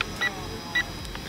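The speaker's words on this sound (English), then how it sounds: "Why does sometimes it does 2 beeps?" Electronic beeps from a toy drone's remote controller, model JY011W, two short tonal bleeps spaced about half a second apart over faint background noise.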